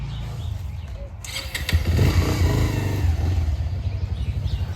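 A motorcycle engine cranks and catches after a second, then runs at a rough, close idle with a low steady rumble.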